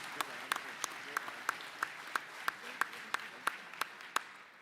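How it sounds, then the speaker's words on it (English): A convention hall audience at a cabinet question session clapping in a slow, even rhythm of about a dozen sharp, spaced claps, each clearly separate, heard at a moderate distance over a soft background murmur. "I'm taking that applause for myself"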